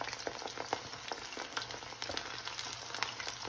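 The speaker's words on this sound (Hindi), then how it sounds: "अब इसको दूसरी साइड फ्राई होने के लिए छोड़ देंगे।" Chicken pieces for chilli chicken frying in hot oil, turned to cook the second side: a steady close sizzle with scattered crackles and pops, with no talk.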